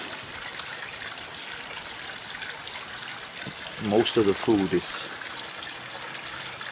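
Waterfall pours into a koi pond with a steady, gentle splashing rush, while a voice briefly speaks over it partway through.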